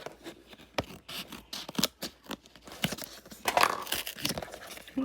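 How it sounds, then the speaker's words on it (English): Scissors snipping through decorative packaging, irregular close crisp cuts mixed with crinkling and scraping of the wrapping, no voices. "I'm going to have to undo this gorgeous packaging with some scissors"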